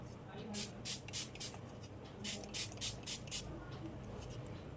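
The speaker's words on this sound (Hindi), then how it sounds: "ये मैंने मार दिया है स्प्रे।" Spray bottle misting hair before a home haircut, several quick hissing bursts in two clusters, fairly quiet and close, with soft handling rustle between sprays.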